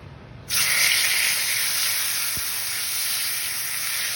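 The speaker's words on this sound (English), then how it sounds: "So I'm just gonna drop them into this hot pan" Thin tri-tip sirloin steaks seasoned with paprika, lemon pepper, onion powder and garlic powder hit a hot pan and break into a loud, steady broadband sizzle that holds without a break, close by and with no one talking.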